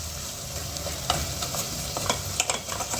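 Masala-stuffed bitter gourd (karela) frying in a pan, a continuous close sizzle broken by light scraping and stirring taps.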